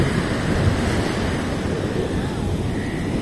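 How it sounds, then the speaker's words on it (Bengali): Sea waves break on a beach in a continuous heavy wash of surf, with wind buffeting the microphone and no clear voices. "আজকে অনেক ঢেউ আসছে ছোড়ো।"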